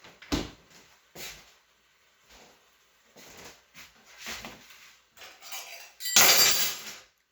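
A brownie slice is cut and lifted onto a plate, with several separate clinks and scrapes of cutlery and dishes spread through the clip and a louder, denser clatter near the end.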